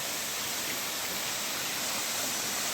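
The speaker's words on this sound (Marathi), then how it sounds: "आणि हा अशा प्रकारे आहे तिसरा धबधबा" Amboli waterfall in the monsoon rushes with a steady, even roar of falling water, unbroken and moderately quiet for the whole stretch.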